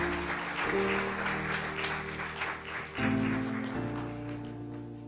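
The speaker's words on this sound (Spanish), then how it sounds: "Démosle un aplauso al Señor." Church congregation applauding together, a steady wash of clapping with a sustained organ or keyboard chord ringing underneath, fairly distant and even throughout.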